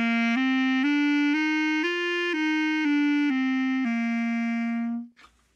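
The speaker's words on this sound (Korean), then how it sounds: "제가 클라리넷 연주 각도에 따른 음색 차이를 한번 보여드릴까요?" Clarinet played up and down a short stepwise scale of sustained, close, clear notes, held at an angle to compare tone, ending with a faint breathy click.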